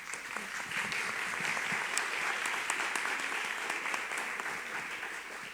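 An audience at a formal special session applauds steadily and densely, with continuous loud clapping throughout and no pauses.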